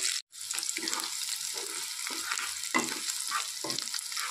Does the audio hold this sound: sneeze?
no